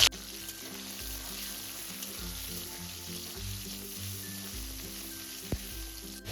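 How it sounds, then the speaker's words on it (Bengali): Pointed gourd slices fry in hot oil with a light salting, producing a soft, steady sizzle under a low rhythmic hum, with a brief clatter near the end and no speech. "প্রথমেই পটলগুলো হালকা করে ভেজে তুলে নেব"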